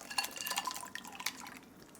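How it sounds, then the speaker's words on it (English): Ice water is dumped onto brewing Swedish egg coffee, producing a short, close splashing and trickling pour with clinks, fairly quiet and fading out. "take ice water and dump it right onto the top"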